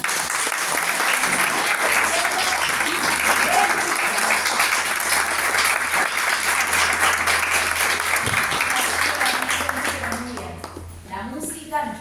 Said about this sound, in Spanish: les quiero pedir un aplauso para la Biblioteca Popular Pedro Soberano y toda la